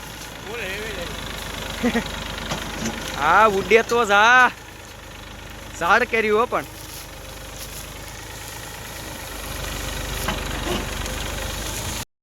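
A tractor coming out of a sugarcane field onto the road gives a continuous low engine drone under bursts of people talking, and the engine carries on alone toward the end.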